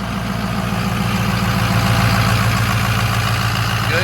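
A truck engine idles close by in a steady low rumble with a regular, pulsing beat, loud and constant throughout, with no voices over it.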